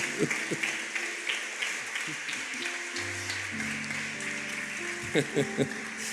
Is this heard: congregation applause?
yes